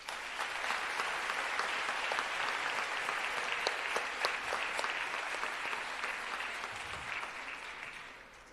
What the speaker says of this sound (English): Let us pause for a moment of applause in his memory